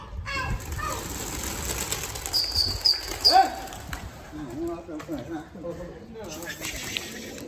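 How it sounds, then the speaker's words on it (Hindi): A flock of about 100 pigeons taking flight, a soft rush of flapping wings rising and fading, with someone talking over it and children's voices in the background. "दोस्तों कबूतर उड़ चुके हैं।"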